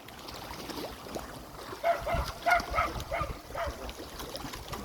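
A dog barks several times in a quick series, moderately close, over a constant wash of outdoor noise.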